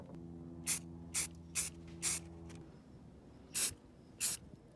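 Short bursts of aerosol spray primer hiss repeatedly, six quick sprays with pauses between them, close and distinct over a low hum.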